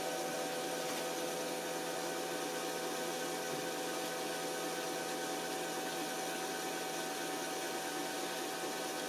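A freshly serviced Janome 8200QC sewing machine winds a bobbin with a steady, even whirring hum that holds unchanged throughout, with no talking.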